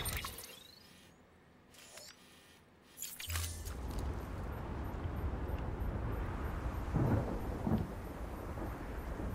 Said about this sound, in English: Here's a storm a brewing.